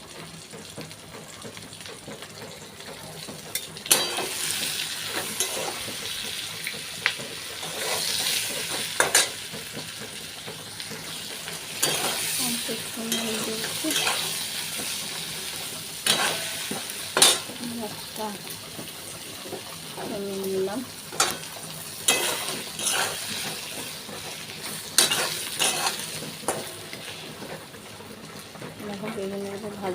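Washed brinjal slices sizzle steadily in hot oil in a pan, with sharp scraping clinks of stirring recurring throughout while someone talks over the cooking.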